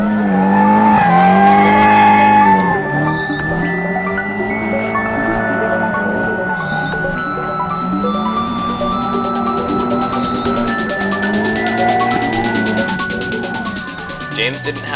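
A drift car, an S13-type machine driven hard, slides in long sustained skids with loud tire squeal and a screaming, rising-and-falling engine; close and intense, with a voice talking over it.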